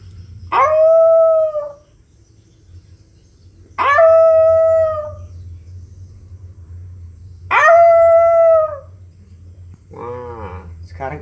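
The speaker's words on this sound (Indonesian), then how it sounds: "Ini adalah suara anjing hutan." A wild dog lets out three long, wavering howls, each a couple of seconds long with pauses between, followed by a short rougher call at the end.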